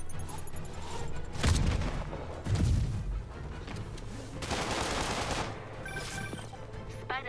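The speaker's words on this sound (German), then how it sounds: "hier wurden Schüsse gemeldet" Bursts of rapid video game gunfire in Marvel's Spider-Man crackle in short volleys with booms between them, a busy battle din at moderate distance with no voices.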